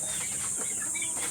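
A chicken gives a few short clucking calls close by over a steady background hiss, all within a brief moment and with no speech.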